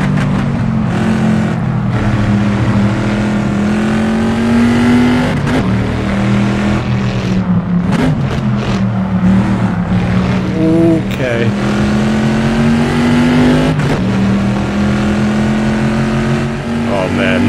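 A Corvette C2 V8 in Assetto Corsa racing at Watkins Glen, its engine droning loud and close with rising and falling revs through gear changes and a few short downshift blips, with no voices over it.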